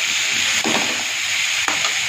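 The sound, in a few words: stirring chopped onion and green chili frying in pan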